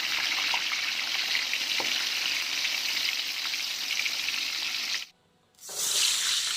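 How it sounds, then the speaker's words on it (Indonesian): Soaked tempeh pieces frying in hot oil for a Sundanese nasi liwet meal, a steady close sizzle that runs loud and even, then cuts out briefly near the end before resuming. "Setelah 10 menit, kita akan goreng tempenya terlebih dahulu."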